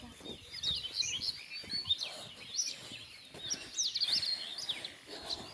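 Birdsong in a foggy jungle on a trek, with several birds chirping and calling in overlapping bursts, moderately near and fairly soft throughout, over a quiet background.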